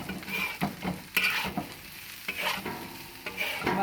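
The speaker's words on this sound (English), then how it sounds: "Okay, now stir this through." Nasi goreng fried rice being stirred in a hot pan, irregular scraping strokes over a soft sizzle, close and fairly quiet.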